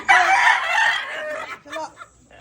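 Roosters crow loudly and close by, one long strained cock-a-doodle-doo followed by a shorter second call, with muffled talk faintly underneath.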